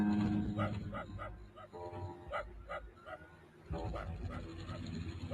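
A dog in a Flash cartoon barks and whimpers, a few sharp close yips followed by whining, with cartoon voices talking over and between the sounds.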